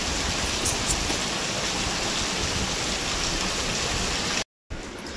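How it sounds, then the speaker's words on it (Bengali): Steady rain falling outdoors, a dense even hiss with no breaks beyond one brief dropout near the end, moderately loud and continuous, no voices. "আর এই দেখুন বাইরে কিন্তু এখন অলরেডি বৃষ্টি নেমে গেছে।"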